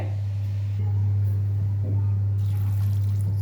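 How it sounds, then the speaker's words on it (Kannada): A cup of water is poured into a pan of beetroot for beetroot palya, making a short, soft splash against a steady low electrical hum. "ಟೀ ಕಪ್ಪಿಂದ 1 ಕಪ್ ಮೆಜರ್ಮೆಂಟ್ ನೀರು ಹಾಕ್ತೇನೆ ಇದಕ್ಕೆ"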